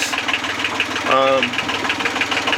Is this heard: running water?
no